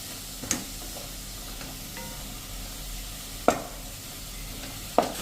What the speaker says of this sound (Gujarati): 1 ચમચી જેવી આપણે આદુ લસણ અને મરચાંની પેસ્ટ પણ નાખી દેશું અને એને પણ આપણે સરસ આ તેલમાં જરા રોસ્ટ કરી લેશું